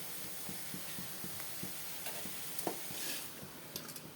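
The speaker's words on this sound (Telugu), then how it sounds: "చూడండి, ఈ విధంగా ఆయిల్లో డీప్ ఫ్రై చేస్తున్నాను." A snack deep frying in hot oil gives off a faint, steady sizzling hiss dotted with small crackles and pops, heard alone without voices.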